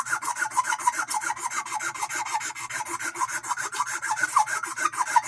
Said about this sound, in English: I love the hand sanding part.